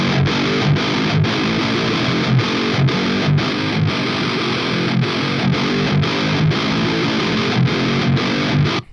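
Distorted electric guitar played through an amp simulator with a blended impulse response, a dense, saturated rhythm part with steady chugging strikes and brief regular gaps, loud and continuous throughout with no voices.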